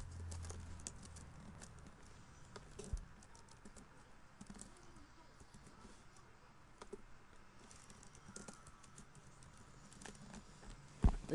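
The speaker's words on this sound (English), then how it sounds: "and just type something" Faint typing on a computer keyboard, scattered quiet key taps spread over several seconds beneath a low background hiss, with a few louder clicks.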